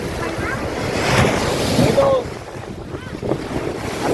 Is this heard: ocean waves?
yes